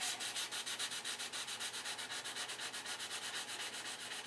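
Hand sanding along the leading edge of a classic Continental car's bodywork during paint repair, a steady rhythmic rasp of strokes, about nine per second, close and fairly quiet with no talking.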